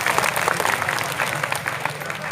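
An audience claps at a live comedy stage show, with dense, sustained applause from a large crowd, steady and fairly loud throughout.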